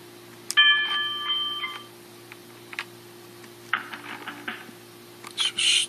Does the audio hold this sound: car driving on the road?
no